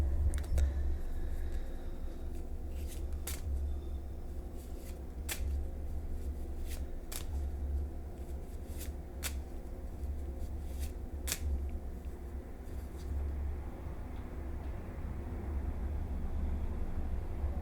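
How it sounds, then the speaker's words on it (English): A deck of tarot cards shuffled by hand at close range, soft continuous riffling broken by scattered sharp snaps of card edges over a faint steady hiss, with no talking. "Around here, we shuffle until Spirit tells me to stop shuffling"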